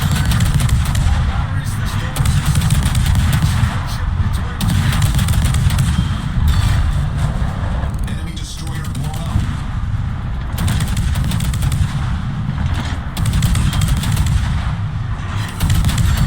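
Naval gunfire and shell impacts from World of Warships, with a French cruiser Colbert under fire; dense, continuous booming and rumbling blasts fill the whole stretch at high level, with no voice on top.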